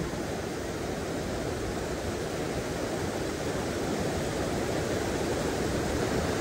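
A rushing mountain river crossed by motorbike at around 3850 metres makes a steady, loud, unbroken roar of churning water that fills the whole clip, with no voices.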